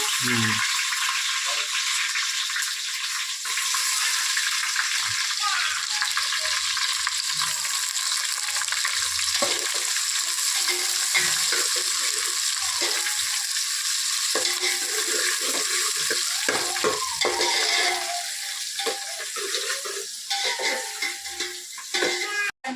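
Onion pieces fry loudly in a pan for village-style chicken biryani, a steady dense sizzle with rattling stirring running throughout, close and continuous.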